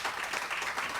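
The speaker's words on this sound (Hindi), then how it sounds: "बहुत सारी तालियां" Studio audience applauding on a Pakistani morning TV show, a steady wash of many hands clapping that fills the whole moment, dense and continuous at moderate loudness with no clear voices on top.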